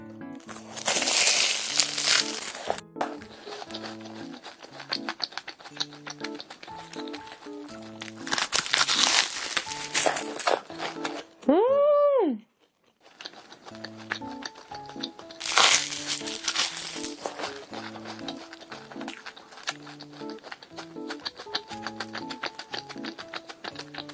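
Crisp, loud crunches of biting into flaky pastry come in three separate bursts of chewing, with soft background music playing between them.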